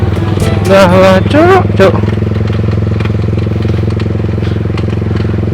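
A close motorcycle engine runs at a steady, throbbing idle with a rough, clattering pulse, while someone speaks briefly over it near the start.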